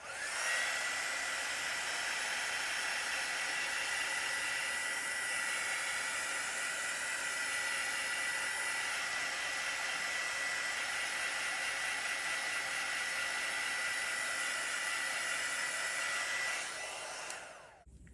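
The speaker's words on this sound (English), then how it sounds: "So I'll just set that with the heat embossing tool." A heat embossing tool blows a steady, loud hiss over poured acrylic paint in a Dutch pour, running without a break for about seventeen seconds before cutting off.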